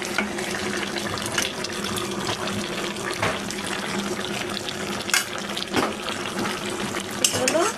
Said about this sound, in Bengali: এখন আমি মাছটা দিয়ে দিচ্ছি।